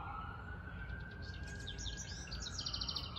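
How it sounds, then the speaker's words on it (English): Birds chirp in short, quick bursts over a constant suburban traffic hum, with a siren tone droning underneath. "on the sound of the birds"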